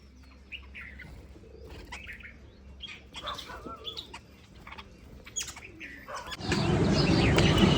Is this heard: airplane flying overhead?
no